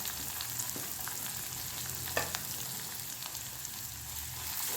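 Garlic, green chilli, onion, curry leaves and spices sauté in hot oil, giving a steady dense hiss of frying with a few soft stirring scrapes and one brief clatter, no speech.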